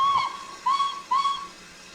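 Steam locomotive whistle of an LNER Q6 in the Railworks train simulator: three short, clear tonal toots, the first slightly longer, evenly spaced with a faint hiss between, loud and alone.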